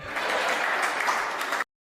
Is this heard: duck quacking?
no